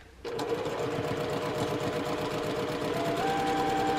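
A sewing machine starts up and runs steadily, stitching through an intersection of fabric seams, its rapid mechanical stitching whirring close by with a slight change in tone near the end.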